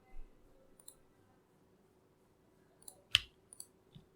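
Sharp, quiet computer mouse clicks: a lone click early, then a small cluster of crisp clicks near the end, surrounded by near silence.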